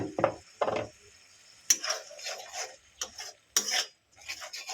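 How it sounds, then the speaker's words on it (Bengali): A spoon stirs and scrapes masala with cashew paste in a pan over a very low flame for a vegetarian cauliflower dish, giving a series of short, rasping strokes separated by brief pauses. "ভালো করে আবারও মশলাটাকে কষিয়ে নেব"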